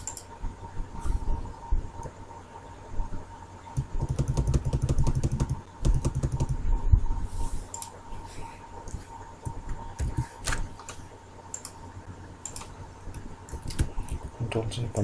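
Someone types steadily on a computer keyboard while drawing a DC armature winding diagram, with quick runs and clusters of clicks. A person talks over the typing throughout, and a faint electrical hum sits underneath.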